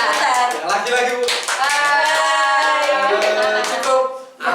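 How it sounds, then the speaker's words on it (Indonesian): Group applause from an audience at an Indonesian teacher coaching session on academic supervision, a continuous spread of hand claps under faint voices, dropping out briefly near the end. "tepuk tangan buat kita semua"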